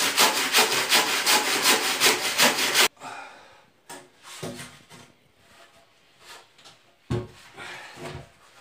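A hand saw cuts timber for a low-cost mezzanine floor. Nearly three seconds of fast, loud, rhythmic rasping strokes give way to slower, scattered strokes and scraping of wood, heard close and alone.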